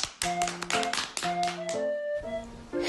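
A group claps for Zubair in a Pashto lesson, several bursts of hand clapping that stop and start with short gaps, mixed with a few brief tonal beeps.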